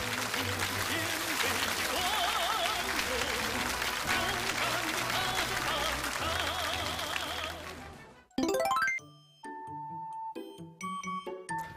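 Studio audience applause thanking a fighter test pilot at the close of a televised lecture, dense sustained clapping with music playing along that cuts off abruptly, followed by sparse bright chime-like tones.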